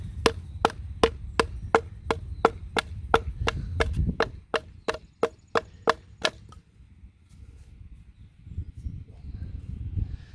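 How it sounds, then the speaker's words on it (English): A knife is batoned through wood with a baton outdoors, giving about fifteen sharp, evenly spaced knocks that stop partway through, followed by quieter rustling. "Then take your baton and just drive it back on the knife."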